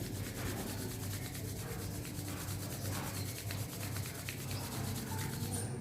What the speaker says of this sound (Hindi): वापस दोनों हाथों को रब करेंगे अच्छे से।